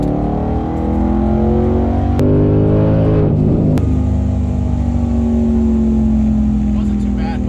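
A 900-wheel-horsepower ESS G3X supercharged Mustang GT on a dyno makes a full-throttle pull, engine roaring and rising in pitch, with a sharp gear or pop break and a sweeping rev change mid-run, loud and close.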